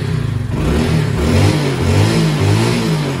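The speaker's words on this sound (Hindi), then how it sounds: "बाइक की करते हैं स्टार्ट" A motorbike engine runs loud and close, revving up and down in uneven surges over a steady throaty rumble, with no talking.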